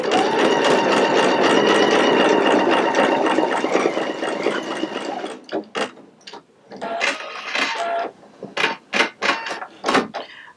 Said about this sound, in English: Okay, our second flower has been embroidered. The machine stops again.